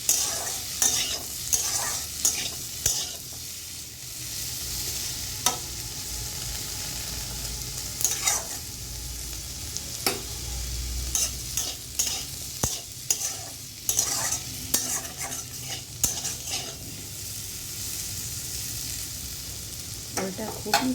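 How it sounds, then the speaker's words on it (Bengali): Elephant foot yam pieces and potatoes frying together in a pan, stirred with steady, repeated scraping strokes over a low, continuous sizzle, close and fairly quiet with no talk. "ওলগুলো আলুর সাথে একটু ভালো করে ভাজা ভাজা করে নেব।"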